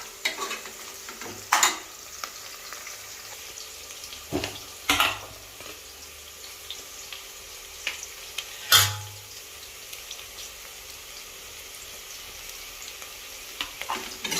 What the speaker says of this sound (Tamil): இது வெங்காயம் வந்து நல்லா கோல்டன் ப்ரௌன் கலர் வர வரைக்கும் நல்லா வதக்கலாம்